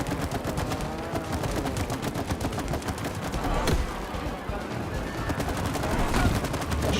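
Rapid, continuous shooting in the co-op video game It Takes Two, dense bursts of gunfire running steadily throughout at close range with a mixed game soundtrack underneath.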